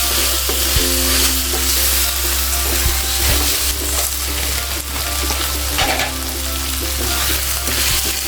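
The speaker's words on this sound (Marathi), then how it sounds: "आता ह्यामध्ये क्रिस्पी फ्राईड नूडल्स घालायचे आहेत हे दोन कप घालते मी मिक्स करून घ्यायचे आहेत" Crispy fried noodles tossed with soy sauce in a pan for homemade Chinese bhel give a steady, close sizzle with scraping stirs and occasional clinks running continuously throughout.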